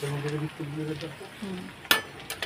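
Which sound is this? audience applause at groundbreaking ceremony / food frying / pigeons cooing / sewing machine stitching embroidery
food frying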